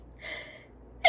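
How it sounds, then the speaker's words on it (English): A woman's sneeze bursts out sharply at the end after a soft building inhale, one loud close sneeze alone with no talking. "Oh, I gotta sneeze."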